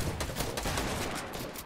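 Dense, rapid bursts of gunfire crackle continuously in the video game Fortnite, a loud fusillade of overlapping shots with no voices.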